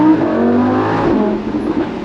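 Lamborghini Huracan Spyder engine pulls hard under acceleration, a loud, close, steady rising drone that holds for about two seconds before easing slightly.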